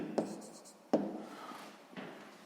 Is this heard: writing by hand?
yes